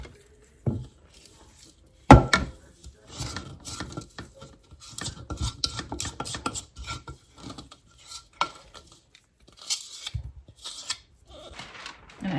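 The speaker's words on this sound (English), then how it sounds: "press it into the bottom of this pan." A snack mixture pressed into the bottom of a pan with a utensil, giving scattered close scraping, tapping and sticky rasping sounds in irregular clusters, with one sharp clack and quiet gaps between.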